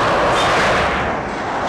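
Gunfire in an Iranian film after a countdown: a loud, dense burst of rumbling blasts with a booming wash, continuing steadily without a break.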